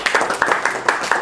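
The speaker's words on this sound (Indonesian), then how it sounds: "Berikan sorak-sorai buat Tuhan." A church congregation claps in a quick, steady rhythm, loud and close, with crowd voices mixed into the applause over a short burst.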